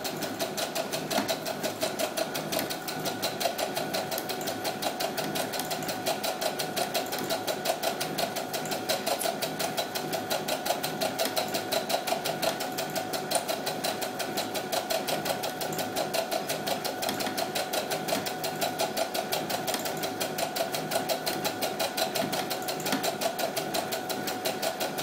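A sewing machine runs steadily for the whole stretch, working a dense stitch on small doll jeans, with a fast, even mechanical whir and needle rhythm close by and no talking.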